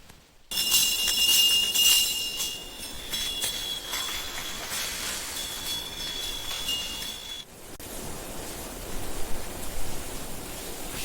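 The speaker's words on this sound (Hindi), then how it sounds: "मंदिरों की घंटियां" Temple bells ringing in a mountain village in Uttarakhand: sustained, shimmering metallic tones that ring continuously for several seconds over a hissy background, then drop away into a quieter, diffuse wash.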